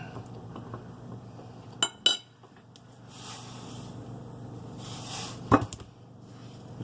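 Squirrel pieces being stirred through salted flour for frying, with soft scraping and a few sharp utensil clinks against the dish, fairly close and quiet, with no voices.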